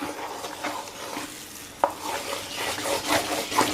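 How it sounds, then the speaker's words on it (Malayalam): Thick pumpkin and jaggery syrup mixture being stirred in a pan for a traditional Kerala dish, close scraping strokes over a soft sizzle, with a sharp utensil knock near the middle and no talk. "ഇനി നമ്മൾ ഇതൊക്കെ മിക്സ് ചെയ്തത് ഇളക്കുവാണ്"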